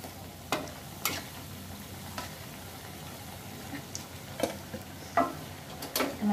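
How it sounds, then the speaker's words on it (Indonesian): Egg-coated potato fritters fry in hot oil with a quiet steady sizzle, broken by scattered sharp clicks and scrapes of a utensil against the pan. "Kalau kita goreng telur pasti berbuih begini."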